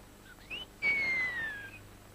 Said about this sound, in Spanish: Y si encuentras a Cupido, suelta un silbido